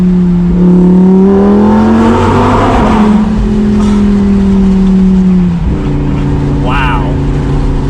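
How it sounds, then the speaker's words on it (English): A 2020 Lamborghini Huracan EVO Spider accelerates hard from inside the cabin, its engine note climbing loudly through a gear change with a brief shift break, a voice heard over it. "about finishing up with the Huracan. One more acceleration."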